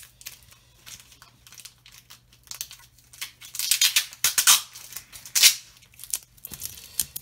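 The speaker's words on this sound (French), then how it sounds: "Désolé pour le bruit, c'est le scotch qu'ils mettent sur le booster" Tape being torn and peeled off Pokémon booster packs gives rough crinkling and ripping bursts, growing louder and denser partway through, close to the microphone.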